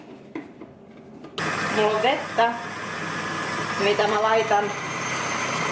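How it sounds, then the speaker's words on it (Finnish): A food processor whirs as it blends hummus after chickpeas, spices and olive oil go in, a steady loud motor drone starting abruptly and running under a woman's speech. "Ja mylly kiinni."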